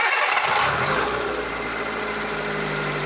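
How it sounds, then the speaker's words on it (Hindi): A car engine with its air filter pipe removed cranks and catches, then settles into a steady idle with a loud broadband intake rush over a low rumble, with no talking. "तो अभी मैं आपको स्टार्ट करके दिखाता हूँ गाड़ी।"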